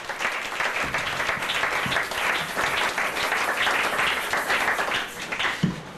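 A church congregation applauds loudly and steadily during worship, a sustained wash of many hands clapping for several seconds with no break.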